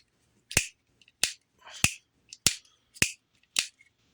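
Six sharp, crisp pops from a knife's action in a steady rhythm, each a quick snap with near silence between, close and clear.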